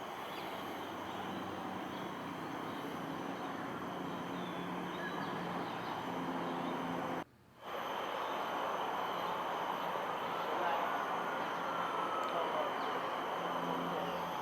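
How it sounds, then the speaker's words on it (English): Busy traffic on Bukit Panjang road hums steadily in the distance as a broad, even background wash, faint and continuous with one brief dropout. "Definitely you can hear the busy road, the Bukit Panjang road in the background"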